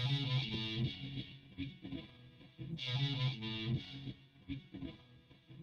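Distorted guitar amp tone dialed in to mimic a Peavey 5150 inside Bias Effects software, a dense saturated chugging riff with palm-muted chords and brief pauses, loud and upfront with no voices.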